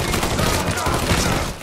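Gunfire from a weapon in the video game Mafia III, a dense continuous burst of loud shots lasting under two seconds with no talking.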